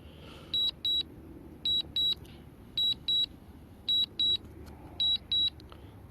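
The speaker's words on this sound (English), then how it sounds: "Just have to deal with that dumb beeping noise." Repeated electronic drone beeping in pairs, high-pitched double chirps recurring about once a second over a low steady background rumble.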